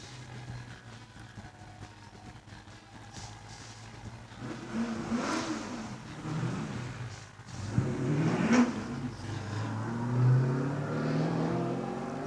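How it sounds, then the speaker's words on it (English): A Holden Commodore race car pulls away from the start line at a lakeside hillclimb, its engine rising through several revving sweeps at moderate distance, fairly gently, before settling into a steady drone. "Lindsay Bear's Holden Commodore has just left the start line and had to take it easy"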